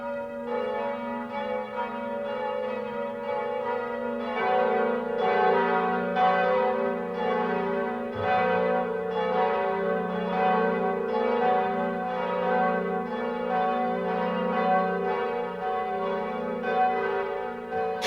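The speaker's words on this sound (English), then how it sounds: "Quasimodo was so happy that he rang all the bells." Several bells of Notre Dame cathedral peal together in an animated cartoon, a full, resonant ringing that overlaps and sustains steadily at a strong level for the whole stretch, with deeper strokes joining partway.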